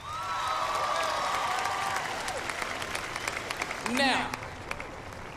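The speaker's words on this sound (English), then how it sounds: "One more round of applause" Crowd at an outdoor torchlight pep rally for a Texas football team gives a round of applause, a moderate wash of clapping with a whistle sweep near the end and a voice beginning to speak.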